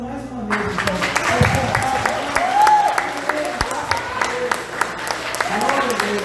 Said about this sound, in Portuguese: Vamos fazer mais um barulho para Jesus, porque ele merece aplauso mais uma vez